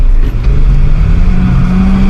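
A drift car's engine revs hard and steadily, loud and close, a strong low rumble with a rising tone that holds through the whole stretch with no talk over it.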